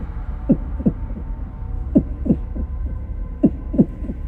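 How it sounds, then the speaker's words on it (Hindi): A heartbeat sound effect for a horror story: paired low thumps, lub-dub, repeating at a slow, steady pace three times, dull and muffled over a faint hum. "उसके दिल की धड़कनें बढ़ने लगी।"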